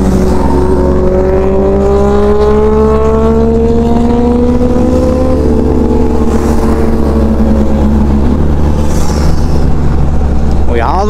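A Kawasaki Ninja 1000 motorcycle goes by: a loud, close engine drone whose pitch climbs steadily for several seconds as it accelerates, over constant roaring background noise.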